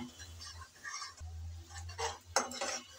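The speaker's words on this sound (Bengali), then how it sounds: "তাই ভালো করে নেড়ে চেড়ে কষিয়ে নিতে হবে।" Curry being stirred and sautéed in a pan, with a spoon scraping and clinking against the metal under a steady low sizzle, and a brief louder clatter near the end.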